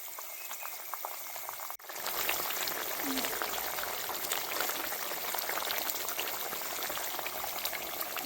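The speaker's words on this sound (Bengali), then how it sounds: "দেখুন বন্ধুরা, অনেকটাই বলক নিচ্ছে।" Fish and potato curry broth at a rolling boil in a pan, a steady dense bubbling that starts abruptly after a brief pause and continues close and loud throughout.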